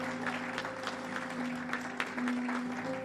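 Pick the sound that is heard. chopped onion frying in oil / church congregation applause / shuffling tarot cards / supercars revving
church congregation applause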